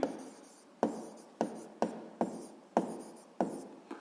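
Pen strokes writing by hand on paper, heard as seven short scratchy bursts spaced irregularly at close range, with no other sound.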